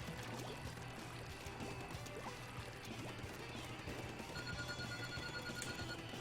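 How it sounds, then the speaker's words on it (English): A telephone rings during a Splatoon 2 game session, a faint repeating electronic ring under steady game audio and background noise. "Whose phone is ringing?"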